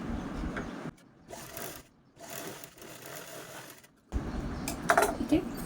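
A sewing machine stitches lining fabric onto a zipper in two bursts of rapid, even needle clatter, one brief at the start and a longer run near the end, with quieter handling between.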